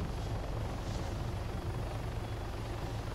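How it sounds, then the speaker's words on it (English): Helicopter in a military video game, a light AH-6 attack chopper, roars continuously with a steady low rotor thrum and engine drone, loud and close throughout with no voices. "the helicopter's quite fragile"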